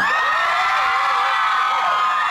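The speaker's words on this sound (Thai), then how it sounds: "ขอเสียงกรี๊ดอีกได้ไหมครับ" A dense crowd in a pub in Thailand cheers and screams continuously, high shrieks and whoops blending into a loud, sustained roar with no pauses.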